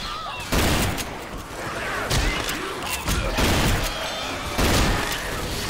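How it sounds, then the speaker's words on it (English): Sustained MG42 machine gun fire in Left 4 Dead 2, a dense roaring fusillade with heavy booming bursts recurring every second or so, loud and continuous throughout. "May as well have fun with this MG42 while it still has ammo"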